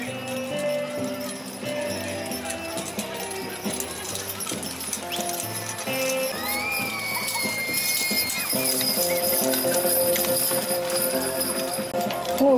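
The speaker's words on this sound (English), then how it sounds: "Okay, so we have the Clydesdale," Clydesdale draft horses in a show arena during a tandem hitch class, hooves clopping steadily under a busy mix of crowd noise, announcer talk and background music.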